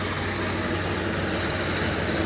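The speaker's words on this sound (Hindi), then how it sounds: "ये अपना ट्रैक्टर चल पड़ा है मोटर निकालने के लिए" A farm tractor engine runs steadily close by, a constant low rumble with a rough, throbbing texture and no breaks or changes in pace.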